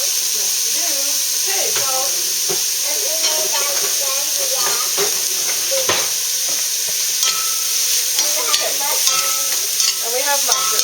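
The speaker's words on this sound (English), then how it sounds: "And we have mushrooms. Okay, so we're sauteing this up." Mushrooms sautéing in oil over high heat for a lasagne filling, loud continuous sizzling with frequent scraping and stirring clatter of a utensil against the pan, while people talk intermittently over the cooking.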